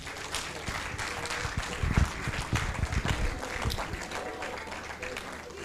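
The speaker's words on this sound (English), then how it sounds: "That is not how to clap for a Vice Chancellor." An audience at an international academic conference applauds the Vice Chancellor, a scattered, fairly sparse clapping that swells briefly then thins, heard in a large hall with some voices murmuring underneath.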